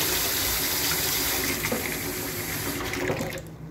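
Water gushes steadily from a kitchen mixer tap into a sink, a loud continuous hiss and splash that thins out and drops away near the end as the tap is shut off.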